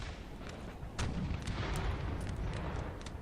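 Artillery bombardment in the Napoleon: Total War battle game, a continuous rumbling barrage of booming cannon fire with sharp reports scattered throughout, heavier after the first second, no talking.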